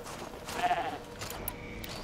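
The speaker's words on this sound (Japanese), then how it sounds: "ヤギか。" A goat bleats in the video game Horizon Zero Dawn, a faint, wavering call over a soft game ambience with light background noise.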